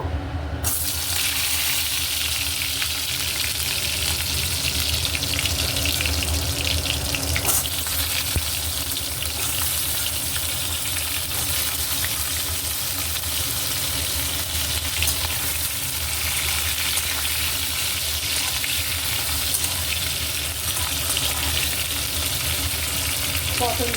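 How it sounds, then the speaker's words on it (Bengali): Pieces of pointed gourd (potol) deep-fry in a pan of oil, giving a loud, continuous bubbling hiss that holds steady throughout. "পটলগুলো আমি প্রথমে ছাঁকা তেলে ভেজে নেবো"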